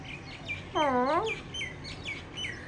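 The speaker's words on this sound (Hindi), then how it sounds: "बर्ड्स की आवाज़ें आ रही हैं" Small birds chirp and tweet outdoors in pleasant post-summer weather, with repeated short bright calls spaced through the clip and one louder, richer descending call in the middle over faint background noise.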